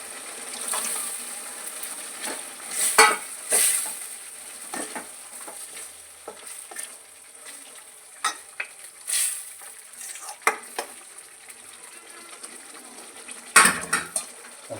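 Boiled mutton for pallakura mutton curry stirred and frying in a pan, a steady sizzle with repeated scrapes and clinks of a spoon against the pan, close and alone.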